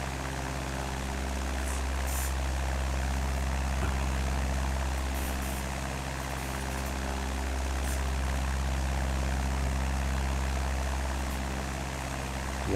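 A small propeller airplane in flight, heard from inside as a loud, steady engine drone with a constant prop hum and no speech.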